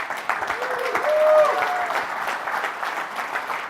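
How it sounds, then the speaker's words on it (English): Conference audience applause in New York, a moderate, even patter of many hands swelling slightly mid-clip, with a tonal whistle or feedback tone briefly audible over it. "please give me a big round of applause for Citigroup"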